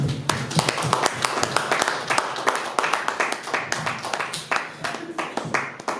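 A church congregation of young people clapping together in a fast, even rhythm, loud and close, with voices calling out in praise under the claps.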